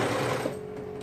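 Sewing machine stitching binding onto a t-shirt for a boys' tank top, a steady close whirring run that slows and drops away about halfway, leaving a thin steady hum.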